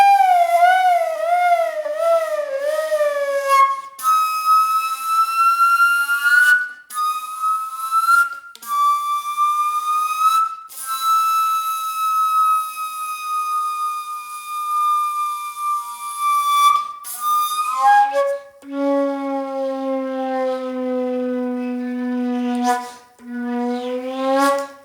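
Flute sliding through glissandos, with wavering bends at the start, long sustained sweeping tones in the middle and a lower held note near the end, played solo and loud with brief pauses between phrases.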